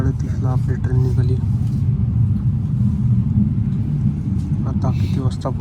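Steady low rumble inside a moving passenger train, a continuous dense drone filling the whole stretch, with brief voices over it near the start and end.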